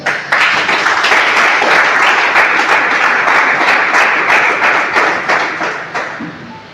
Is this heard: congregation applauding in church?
yes